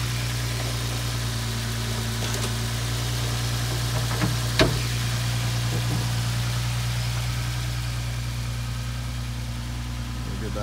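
A Nissan GT-R engine idles steadily close by, a constant low hum and drone with faint vibration and an occasional light tick, nothing else intruding.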